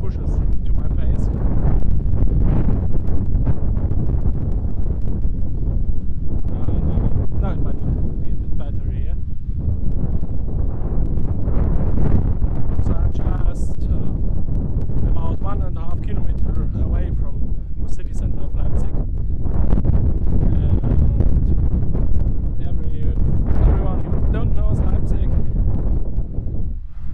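Strong wind buffets the microphone outdoors in a city while walking, producing a loud, continuous low rumble with gusting surges, and a person talks throughout over it.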